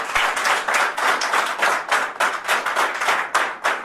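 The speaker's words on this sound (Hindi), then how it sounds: "मैं चाहूंगा सर के लिए एक बार जोरदार तालियां" A group claps in loud, rhythmic bursts, the applause pulsing in regular waves for several seconds with no talking.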